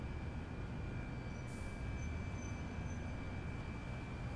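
A ScotRail Class 385 express train at Edinburgh Waverley: a faint, steady low rumble with a thin sustained hum and no distinct events.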